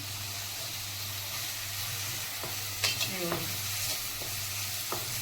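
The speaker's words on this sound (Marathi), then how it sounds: "मिरची पावडर घालणार आहे आणि अद्रक लसूणची पेस्ट एक चमच्यावरून घेतलेली आहे ती घालते आणि हे दोन्ही सुद्धा तेलामध्ये चांगलं फ्राय करून घेते" Chili powder and ginger-garlic paste fry in hot oil for pav bhaji, a steady sizzle under a low hum, with a few scraping stirs of a spoon in the pan partway through.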